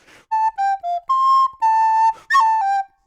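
Solo recorder playing a harmony line of "Pastime with Good Company", ornamented with tin-whistle-style cuts: about seven clear sustained notes in a short phrase, each separated by a brief gap, some starting with a quick flick.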